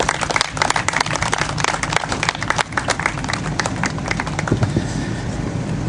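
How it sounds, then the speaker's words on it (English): Audience applause at a cystic fibrosis fundraiser event in April 2009, dense crowd clapping sustained and fairly loud throughout, thinning slightly toward the end. "Let's give him a round of applause."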